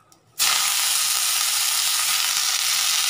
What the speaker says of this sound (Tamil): லாஸ்ட்டாக கராப்பிளை பொறிச்சுக்கலாம்.